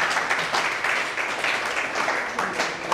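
Class applause in a law lecture hall on civil procedure: steady, dense clapping from many students held throughout at moderate volume, no words spoken.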